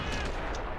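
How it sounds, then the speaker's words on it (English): Artillery fire in a toy army men trench battle game: a brief, loud, dense rumble of blasts fills a split second, heavy and close. "I told you the artillery was just going to target them."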